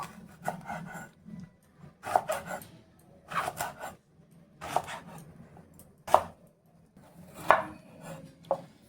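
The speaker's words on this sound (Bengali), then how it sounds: "তো এই যে দুটো বেগুন নিয়েছি, এবারে বেগুনটা কেটে নেব" Eggplant being cut into small pieces on a board gives repeated knife chops in uneven bursts, a few strokes at a time with short gaps, close and fairly quiet, with soft rubbing sounds between and no speech.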